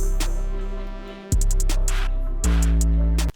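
A full hip-hop beat plays with an AI-generated percussion loop over it: deep bass and sustained melodic tones, crisp percussion hits stacking up, then a heavier low section that kicks in for the last second, all loud and close with no talking.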